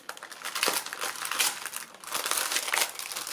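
Plastic packaging from a craft-supply scrapbooking haul crinkles and rustles as it is pulled open by hand. The crackling bursts are close and fairly loud, continuous for a few seconds, with no talk.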